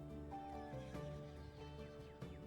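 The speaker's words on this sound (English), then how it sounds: "Oh, there's a horse." A horse neighs in the Pixel Trains video game, a whinnying call with falling pitch sounding over a steady, tonal game soundtrack, with a few brief clicks and no talking.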